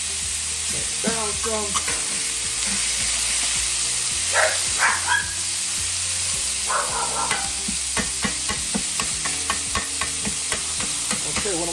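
Food frying in a skillet gives a steady close sizzle while a spatula stirs it, adding scraping taps and clinks against the pan; a voice speaks briefly.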